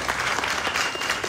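Audience applause at an electric tractor-unit handover event in Debrecen, a dense steady clapping from a crowd filling the whole moment without pause.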